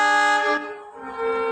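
A vehicle horn honks loudly nearby in one sustained blast, dipping briefly mid-way before sounding again, bright and tonal with no talk over it.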